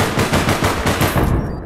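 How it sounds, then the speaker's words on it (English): Sustained machine-gun fire from the APB Reloaded video game rattles in fast, loud, continuous bursts close at hand, with no one talking. "They're shooting at me."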